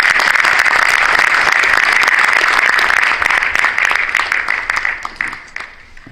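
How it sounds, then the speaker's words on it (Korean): A hall audience at a Korean Christian private school ceremony breaks into loud, dense applause, sustained for several seconds before thinning out and fading toward the end. "큰 박수로 환영해 주십시오."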